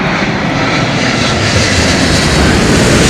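Airliner landing at London Heathrow Airport, a loud and constant engine roar close by with no letup.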